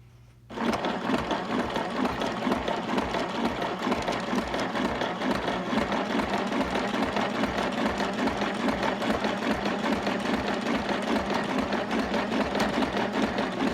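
A sewing machine runs a long continuous stitch up the middle of a handmade Night Before Christmas junk journal, starting abruptly after a brief quiet moment and holding a steady, close mechanical whir.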